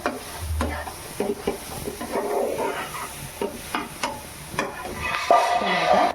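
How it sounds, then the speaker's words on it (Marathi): Goat brain fries in a pan while a spoon stirs and scrapes it, with irregular clattering strokes over a soft background sizzle that grows a little brighter toward the end. "पाच मिनिटांनी आपला भेजा फ्राय होतो"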